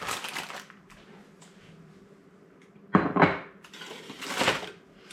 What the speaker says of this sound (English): Okay, we're going to set the pan aside